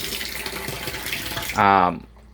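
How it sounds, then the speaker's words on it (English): Water runs from an RV tap fed by a hose hookup at low pressure, a short close gush of flow that starts abruptly after a stretch of background noise and then cuts off. "But I do have running water, both hot and cold, available on demand."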